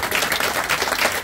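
Audience applause closing a hypnosis stage show, a brief burst of dense, steady clapping from a crowd, close and fairly loud throughout.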